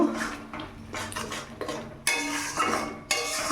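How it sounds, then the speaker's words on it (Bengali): A spoon scrapes and clinks against a metal pan while turmeric powder and salt are stirred and sautéed over a raised gas flame, with uneven bursts of clatter and no talk. "গ্যাসের ফ্লেমটা প্রথমে একটু বাড়িয়ে দিলাম, দিয়ে এটাকে ভালো করে কষিয়ে নেব"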